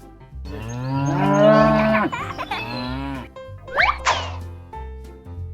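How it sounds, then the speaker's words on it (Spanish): A cow gives a long, loud, close moo with a rising and falling pitch, followed by shorter bovine grunts and a few cartoonish plopping sounds. "Una vaca."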